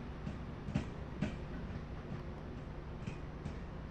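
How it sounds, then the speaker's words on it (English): Train interior in the Train Sim World London to Brighton route: a steady low rumble with a few faint rhythmic clicks of wheels over rail joints, close and continuous. "We are in a train."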